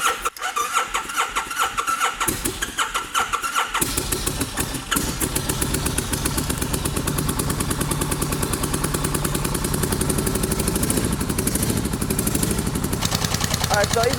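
A $200 auction motorcycle with a disconnected exhaust cranks after carburetor flooding, sputters for a few seconds, then catches and runs with a loud, steady, rapid engine note close by; a voice is briefly heard early on.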